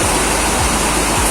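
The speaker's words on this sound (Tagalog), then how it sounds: "Nakita nyo, nagbabagsakan na yung tubig." Water pours down in a steady, loud, continuous rush past a ring set up as a makeshift splash guard, with no gaps and no voices over it.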